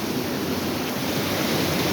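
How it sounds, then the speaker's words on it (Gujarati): Dense, steady roar of heavy monsoon rain pouring down in Udhna, Surat, with water gushing from above, loud and unbroken throughout. "બહુ વરસાદ ઉધનામાં આજે અડધો કલાકથી પડે છે ધોધમાર"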